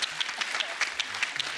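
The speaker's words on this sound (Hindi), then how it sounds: "परेश रावल जी के लिए जोरदार ताली हो जाए" A studio audience at a televised comedy show claps warmly for actor Paresh Rawal, a steady burst of dense applause with no talk over it.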